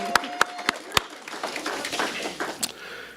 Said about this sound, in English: we can give her a clap